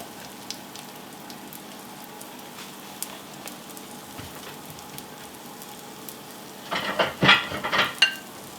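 Lemon soufflé pancakes cook in a pan with a soft, steady sizzle that grows into a few louder bursts of crackling near the end.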